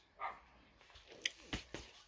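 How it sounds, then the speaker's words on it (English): A neighbour's dog barks in short, sharp yips at a moderate distance, a few separate barks spread over a couple of seconds against a quiet room. "please excuse my neighbor's dog"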